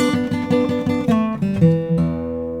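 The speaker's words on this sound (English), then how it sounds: "Number 3 is something that I call the slidey riff. It sounds like this." A bluesy guitar riff with quick repeated notes that slide into sustained, bending tones, played up close and ending on a ringing chord.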